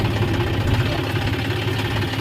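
A farm tractor's engine runs steadily and close by, a dense low rumble with a constant idle-like drone throughout, no pauses or changes in pitch.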